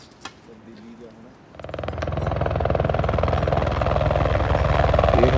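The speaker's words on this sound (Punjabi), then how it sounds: "ਇਹ ਹੈਲੀਕਾਪਟਰ ਆ" A helicopter near Govindghat starts up after a quiet opening. Its loud, rapid rotor chop builds in and then holds steady, close and heavy, over faint background sounds.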